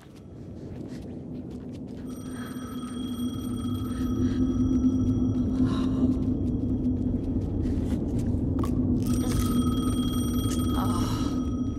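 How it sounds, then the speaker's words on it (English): In the video game Alan Wake 2, a telephone rings with a steady electronic trill that repeats in two bursts over a continuous low ambient rumble, loud and close. "The phone again."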